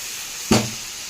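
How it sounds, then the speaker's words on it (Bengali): Water poured into a hot pan of simmering curry, one sudden sharp sizzle and hiss that fades quickly over a steady background hum. "তো আমি এর মধ্যে সামান্য একটু জল দিয়ে দেবো।"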